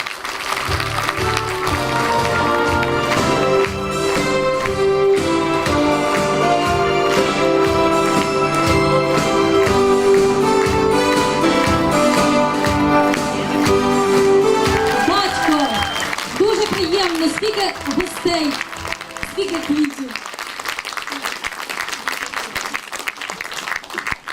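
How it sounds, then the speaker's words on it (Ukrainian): An audience at a 2012 Person of the Year award ceremony in the Yelanets area applauds Anastasia with sustained clapping under loud stage music, which drops away toward the end as a voice speaks. "Давайте бурними оплесками привітаємо Анастасію."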